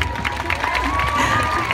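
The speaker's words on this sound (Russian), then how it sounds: "конечно, громкие аплодисменты" Outdoor concert crowd at a City Day festival in Zheleznogorsk applauding and cheering, a continuous wash of clapping and distant shouts with a faint sustained tone underneath.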